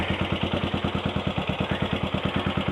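A Yamaha SR500 motorcycle engine idles just over 1,000 RPM after a carburetor repair, producing close, even, rapid thumping pulses with a slight mechanical clatter and no speech.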